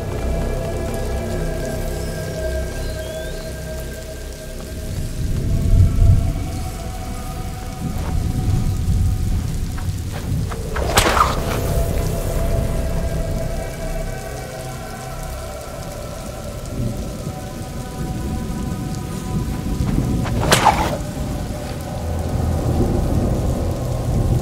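Steady rain pours and patters on surfaces in A Plague Tale: Innocence, broken by two loud cracks of thunder with rumbling tails, the storm continuous and close throughout.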